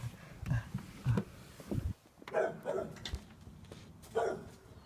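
A dog playing, with short barks and yips in quick bursts, fairly close and separated by brief pauses.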